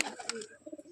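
Pigeons near their coop, some let out and some still shut inside, give a quick, close coo with a few soft pulses over about a second.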